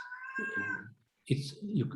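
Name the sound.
pet cat meowing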